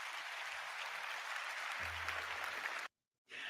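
Steady golf-clap applause from a conference audience, continuous and even, cutting out abruptly near the end before resuming briefly.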